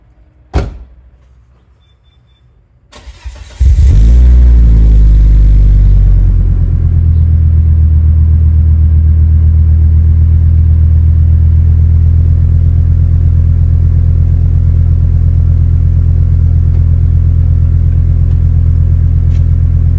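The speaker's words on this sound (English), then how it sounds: "All right, let's do a cold start." A car door clunks, then the engine of a 25-year-old car with a two-and-a-half-inch downpipe cranks on a cold start and fires into a loud, deep rumbling idle that holds steady, close up and without speech.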